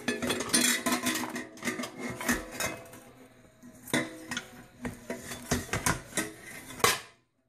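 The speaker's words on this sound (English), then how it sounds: "Pretty neat old copper pot in here." An old copper pot and assorted metal junk such as hubcaps, bolts and glasses are handled, giving repeated close clanks, clinks and rattles in irregular bursts with brief pauses, one loud clatter near the end.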